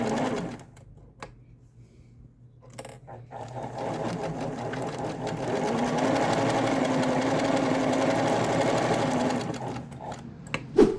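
Singer 247 Luxo sewing machine stitching straight and zigzag seams, its motor whirring up into a steady fast rattling hum after a few quiet clicks, loud and close, ending with a sharp knock.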